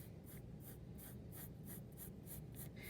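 A pencil sketches a long curved line for a self-portrait drawing, the graphite scratching rhythmically across paper in about ten steady back-and-forth strokes, close and clear over a faint low room hum.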